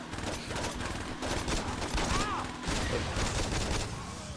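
Dense bursts of game gunfire from Saints Row 2 keep coming for the whole stretch. The volleys sound close and fill the scene, with a short electronic whoop cutting through partway.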